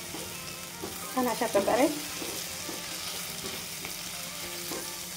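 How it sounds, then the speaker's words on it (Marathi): Tomatoes roasting in oil in a pan for paneer bhurji, a low continuous sizzle with a short burst of spoon scraping and clatter early on, while someone briefly speaks. "आता मी याच्यामध्ये टमाटर घालते, ते पण छान भाजून घेते. जे नरम होईपर्यंत भाजून घेते"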